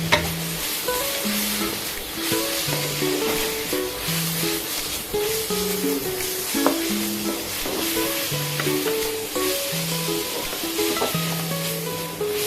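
Bamboo shoots (rebung) being stir-fried with belacan in a wok, with a steady hiss of sizzling and repeated scraping, clanking strokes of a spatula against the metal in an uneven rhythm.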